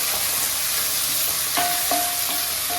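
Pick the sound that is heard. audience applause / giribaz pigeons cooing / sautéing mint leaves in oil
sautéing mint leaves in oil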